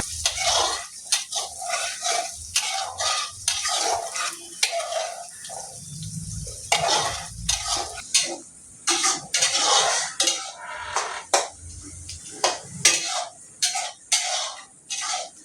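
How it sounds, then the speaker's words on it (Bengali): Onions fry in a pan for a Bengali-style goat mutton curry, giving an ongoing sizzle that is punctuated by frequent scraping and clinking as a spoon stirs them against the pan. The stirring is close and irregular, and nobody talks. "যতক্ষণ না পেঁয়াজটা বাদামি কালার আসছে ততক্ষণ ভাজবো"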